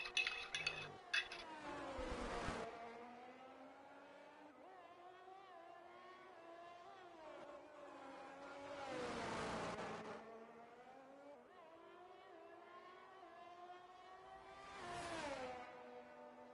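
Race cars in an F1 video game head out on out laps at Circuit of the Americas, several engine notes rising and falling as cars sweep past in separate waves, with no talk.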